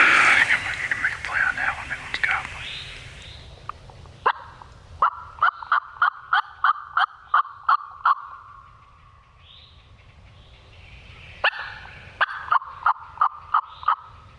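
A wild turkey still roosted in a tree gobbles in rapid rattling bursts, repeated twice, fairly distant, outdoors in a burned Florida forest, with a few quiet words spoken at the start.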